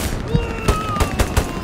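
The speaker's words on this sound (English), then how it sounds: "somebody else is taking shots at him" Gunfire in the World War II shooter Hell Let Loose, where about five sharp shots crack out at a fairly even pace over less than two seconds, with a faint voice underneath.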